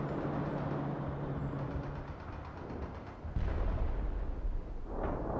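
Artillery fires on target coordinates in the Soviet campaign of the war game World in Conflict: a long rumbling barrage followed by a heavy, booming blast, with deep echoing low-end roll and further bursts afterward, and no voices.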